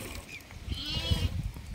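A goat waiting to be milked gives a close bleat with a wavering, tremulous tone, partly masked by low rumbling handling noise on a farm.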